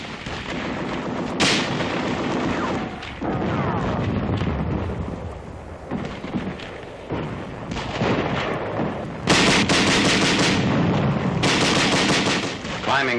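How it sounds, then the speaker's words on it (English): Bren light machine guns and tanks lay down supporting fire for British troops crossing a canal near Boxtel in 1944, with loud, dense bursts of gunfire and heavy blasts rolling on almost continuously. "Tanks and Bren guns giving supporting fire."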